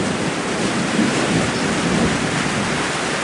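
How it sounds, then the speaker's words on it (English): Heavy rain pours steadily through a thunderstorm as a dense, loud wash of noise, with a low rumble of thunder blending into it and no voices. "I didn't know it was going to be a thunderstorm."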